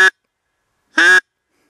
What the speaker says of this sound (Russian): крякает.